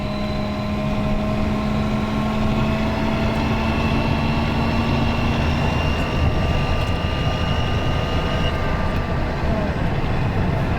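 A blue Ford Ranger pickup converted to electric drive cruises in fourth gear at highway speed, giving a steady loud road rumble layered with sustained whining tones from the drivetrain.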